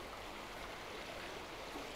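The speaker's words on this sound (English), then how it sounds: "It's always peaceful when you're near running water." A clear stream runs in the town of Glossop, its water giving a faint, steady rushing and trickling hiss that stays even throughout, with no voices.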